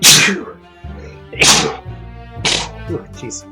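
Three sharp sneezes spaced about a second apart, close and loud, with a low background hum and a brief spoken word between them.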